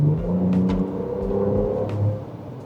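The V6 engine of a 2025 Ford Ranger Raptor pickup truck revs with a steady, loud, deep exhaust rumble that swells briefly near the end, with no voices over it.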